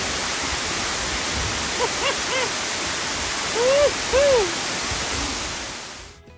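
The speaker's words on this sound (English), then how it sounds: "Somebody's enjoying themselves in the waterfall." Waterfall at Finger Lakes roars steadily as a constant rushing wash, with a few brief whistling or whooping calls from people swimming in it rising above the water noise.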